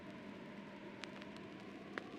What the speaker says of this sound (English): Mellow radio static, like white noise but warmer